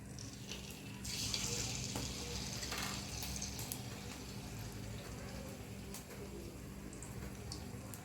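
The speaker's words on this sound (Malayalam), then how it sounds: "മുക്കിയിട്ടത് എണ്ണയിലിട്ട് ഫ്രൈ ചെയ്തെടുക്കാം" Battered chicken lollipops frying in hot oil, a continuous hissing sizzle that swells briefly as the pieces go in, then settles into a steady crackle with no talk.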